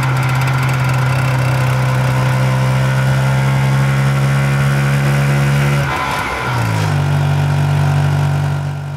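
A Messerschmitt KR200 bubble car's 191cc two-stroke engine running close and loud, a steady buzzing drone that dips briefly near the end before settling back to a higher, even pitch.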